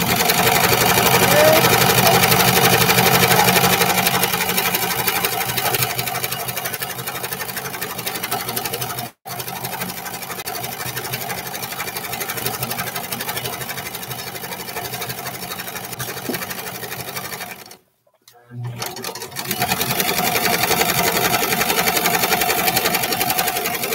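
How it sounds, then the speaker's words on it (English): A domestic sewing machine runs in a steady, continuous whir while stitching a pair of short pants made from a McCall's M4364 pattern, stopping briefly twice before resuming close by. "I'm just going to sew along here."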